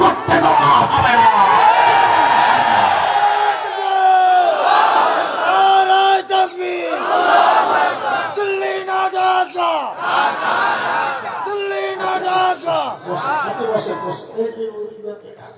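A large crowd at a religious gathering chants slogans in loud, rhythmic call-and-response waves, a lead voice pitching each line and the mass of voices answering in repeated surges.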